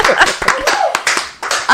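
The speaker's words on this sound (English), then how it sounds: "Round of applause." A round of applause from a small group, with close, loud, irregular clapping and a few cheering voices mixed in.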